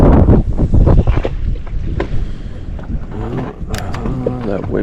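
Strong wind blows across the water around a fishing boat on a smallmouth bass outing in New York, a loud, steady buffeting rumble on the microphone with splashing and creaking beneath, and someone speaking briefly over it.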